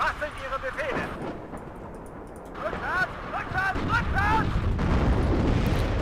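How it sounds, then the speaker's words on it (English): Artillery fire rumbles in the real-time strategy game WARNO, a series of low booming impacts building into a sustained heavy roll under someone talking. "What is that? Oh, artillery."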